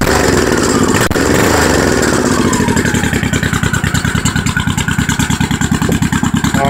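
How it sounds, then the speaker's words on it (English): A Honda Shadow 1100 motorcycle fitted with Cobra drag pipes with baffles in idles and then revs, giving a loud, close, slightly tinny exhaust note with a rapid pulsing rhythm and no talking. "They're not bad, but they got that little bit of a tinny baffle noise to them."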